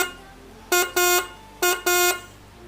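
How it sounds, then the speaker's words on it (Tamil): A repaired motorbike air horn sounds in two pairs of short, bright, buzzy blasts, each pair a quick double honk, loud and close with a pause between the pairs. "ஒரு ஹார்ன் ஒர்க் ஆக ஆரம்பிச்சிருச்சு."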